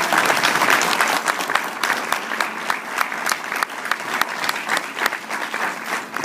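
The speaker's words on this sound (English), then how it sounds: "So please put your hands together for Rick Furbush." Audience applause at a Toastmasters club meeting, a dense steady clapping from a roomful of people that stays loud and even throughout, with no talk over it.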